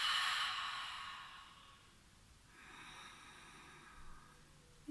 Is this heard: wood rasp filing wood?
no